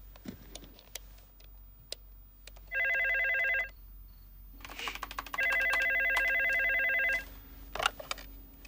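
Two bursts of an electronic telephone ring, the first short and the second longer, sound in a quiet indoor room, with small handling clicks and rustles around them and no talk.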